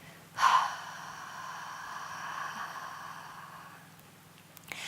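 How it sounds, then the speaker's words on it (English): A deep yoga breath is let out slowly through the mouth: a sharp intake at the start, then a long, steady, controlled exhale close to the listener, with no talking. "exhale slowly and gently in a controlled way out your mouth"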